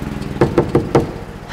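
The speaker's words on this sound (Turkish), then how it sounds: "Kapı çalıyor." Four sharp knocks land on a door in a quick, slightly uneven rhythm, close and loud over a steady low background hum.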